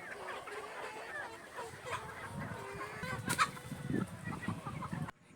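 Chickens cluck repeatedly in a busy game-fowl farmyard, several birds close by with a brief louder squawk near the middle, continuing steadily until it cuts off.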